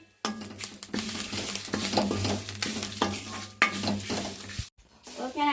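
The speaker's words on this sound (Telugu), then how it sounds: "కరివేపాకాను ఎండుమిరపకాయలు కూడా బాగా ఫ్రై చేసేస్తున్నాను" Curry leaves and dried red chillies fry in oil, a close, continuous sizzle under busy stirring and scraping of a utensil in the pan, broken by a brief silent gap near the end.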